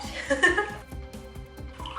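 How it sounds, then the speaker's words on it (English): Tea being poured into a glass beer cup while making bubble tea, a short splashing, gurgling stream with some background noise and no clear voice. "I'm gonna pour the tea into this beer cup."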